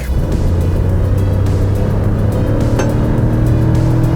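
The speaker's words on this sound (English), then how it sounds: "it's relatively quiet in here, aside from the engine noise at high revs, like" Engine of a 2021 Kia Stonic GT Line at high revs, heard from inside the cabin: a loud, steady droning hum that holds its pitch throughout, with no talking.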